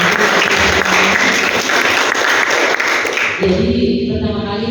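Audience applause for Bu Yanti, Kepala Balai Pelatihan LHK, at the opening of a forest seed assessment training event; a dense, loud burst of clapping fills the room for about three seconds, then drops off into a quieter tail.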